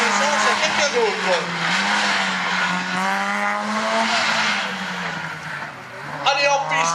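A race car engine revs and whines on a slalom course at Agon-Coutainville, rising and falling through gear changes with a brief tire squeal, heard close under a commentator's voice over the loudspeaker.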